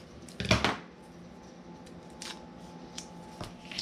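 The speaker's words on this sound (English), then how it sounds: "Let me cut up this little scraggly piece here." Scissors snip a small scrap of craft paper, giving one sharp, close cut near the start, then a few faint clicks and rustles in a quiet room.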